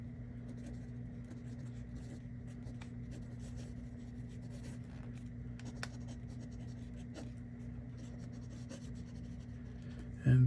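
A Lamy fountain pen with a fine nib scratching softly across paper, continuous quiet strokes over a low steady hum, close-up, no speech.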